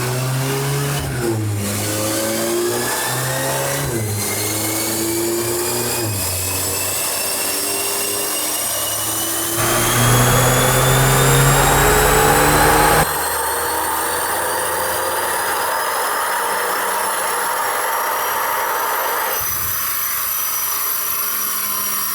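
A stock Volkswagen MK8 Golf R on a dyno revs up through rising gear pulls, with a loud steady engine roar and whine climbing in pitch, then settling lower near the end.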